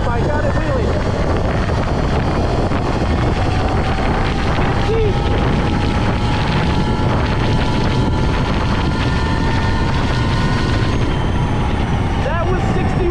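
A 10,000W 72V electric Sur Ron mini moto runs at full throttle: a loud, steady high-pitched motor whine under heavy wind buffeting, continuous and close, with brief voice sounds near the end.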